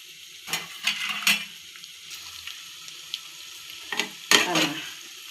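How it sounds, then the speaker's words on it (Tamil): An egg sizzles in a hot frying pan while a utensil stirs it, with a few scraping strokes and soft bursts of crackle over a low, steady fry. "நல்லா ஒரு வாட்டி கிளறி விட்டுட்டு இன்னும் கொஞ்சம் பாயில் ஆகட்டும் முட்டை"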